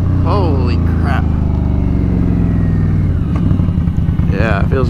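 A 2019 Indian Scout Bobber fitted with a Vance & Hines exhaust rumbles loudly while riding, its deep engine note rising and falling through revs, with a rider talking over it.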